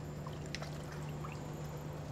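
Fresh-squeezed lemon juice pours into a cocktail, a faint, brief trickle of liquid over a steady low hum in a quiet bar.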